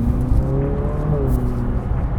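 A Ferrari 458 Speciale idles with a low, steady rumble and a faint rising whine, close by, while someone talks over the engine.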